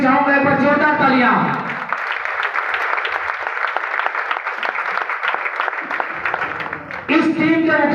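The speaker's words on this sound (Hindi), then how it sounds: "इसके लिए भी चाहूंगा एक बार जोरदार तालियां।" Enthusiastic audience applause at a Hindi-language group meeting in Kanpur bursts out after a speaker's call, a steady wash of clapping for about five seconds, bracketed by amplified talking before and after.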